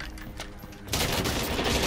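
Rapid bursts of video game gunfire erupt suddenly and stay loud and dense after a quieter stretch of background game noise, sounding like a sustained firefight with heavy overlapping shots.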